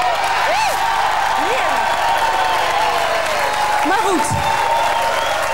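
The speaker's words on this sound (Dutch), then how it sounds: "Jongens, even juichen hier." A large crowd cheers and applauds at a domino world-record celebration event, loud and continuous, with whoops, swooping tones and a presenter's voice over the noise.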